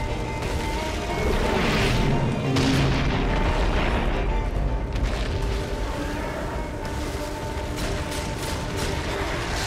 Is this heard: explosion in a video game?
yes